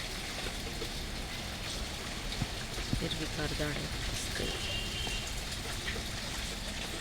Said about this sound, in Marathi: लागलाय पाऊस आता पडायला